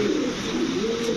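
A young pigeon of a fancy breed gives a loud, close, throaty coo that rolls on without a break through the short moment.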